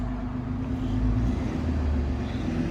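A Mercedes Vito diesel van idles steadily just after the ignition is switched on, a constant low engine hum with no change in speed over the few seconds.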